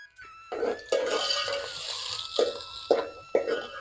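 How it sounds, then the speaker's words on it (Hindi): Chopped onions dropped into hot oil in a village kitchen, a burst of crackling sizzle that keeps frying on with a few sharp spattering pops and stirring knocks, close and fairly loud, no talk. "हमारा ऑयल गरम हो गया है, अब हमने इसमें प्याज डाल देते हैं।"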